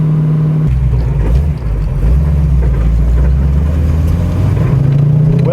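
A 1969 Ford Mustang Mach 1 muscle car with a deep, steady V8 rumble that swells into revs while cruising. It is loud and close, with no voices.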